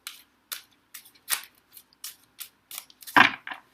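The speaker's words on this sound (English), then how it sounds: "I usually shuffle the other way before" A deck of tarot cards being shuffled by hand: a series of brief crisp riffles and snaps at steady intervals, close and quiet, ending in a louder flurry, with no talk.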